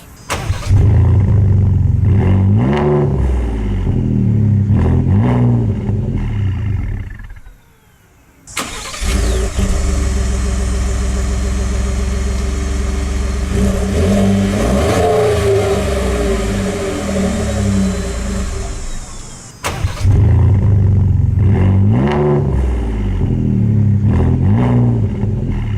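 Ford F-150 2018 pickup with a 3.5L EcoBoost V6 and aFe Atlas exhaust, loud and close: a sustained deep exhaust drone with rising and falling revs, a brief dip near the middle, then more throttle blips.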